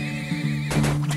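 A horse in the oil-industry game Turmoil gives a loud, close whinny that rises and wavers, followed by brief clip-clop hoof sounds, all in a little over a second.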